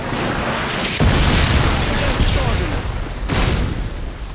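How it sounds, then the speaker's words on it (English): A loud Predator missile explosion in Modern Warfare 2 multiplayer, with booming blasts and a second heavy impact, dense rumbling gunfire and battle noise throughout. "Predator missile inbound."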